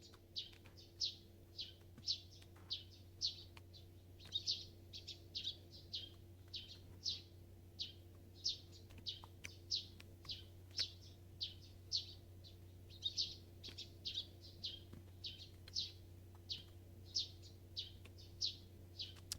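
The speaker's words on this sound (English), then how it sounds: "Bird sounds." Small birds chirp in a Steins;Gate Linear Bounded Phenogram game scene, giving a steady series of short bright chirps about once a second over a constant low electronic hum.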